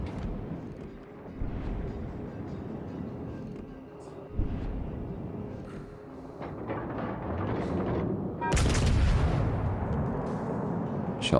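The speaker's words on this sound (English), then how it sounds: "Shots out again from Haj on that Kali" Naval gunfire from warships in World of Warships: Legends, heavy booming salvos over a constant rumbling battle din, with a loud burst near the end.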